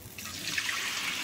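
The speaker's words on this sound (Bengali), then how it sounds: "জল দিয়ে দিলাম" Water pours steadily into a kadai of frying dalia, a continuous splashing rush, close and fairly loud throughout with no talking.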